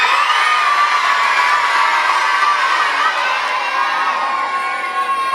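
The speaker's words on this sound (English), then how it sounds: "I'm going to video you guys screaming and waving." A crowd of children at a library reptile show screams, cheers and whoops together, a loud, dense, continuous roar of high voices that holds steady for several seconds and fades slightly at the end.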